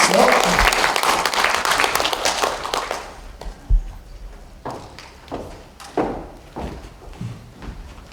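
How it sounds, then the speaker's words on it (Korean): Audience in a National Assembly conference hall applauds a speaker's arrival at a world Korean women's convention, dense clapping that fades after about three seconds into scattered footsteps and thumps as the guest approaches. "여러분 큰 박수로 맞아주십시오."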